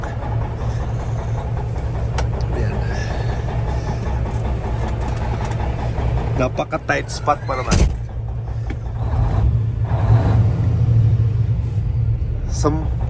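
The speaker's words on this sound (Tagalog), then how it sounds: "Subukan ko mag-drive ng malaking truck." A large Cummins N14 diesel truck engine with misfiring injectors rumbles steadily at close range while driving, with a few clanks and a brief burst of revving. Someone speaks briefly over it.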